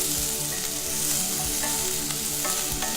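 Onions and peppers fry in a hot pan, giving a loud, continuous close-up sizzle with a few soft scraping knocks from stirring.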